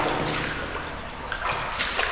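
Water rushes and gurgles steadily through a culvert, a loud, close, continuous wash with echoing splashes.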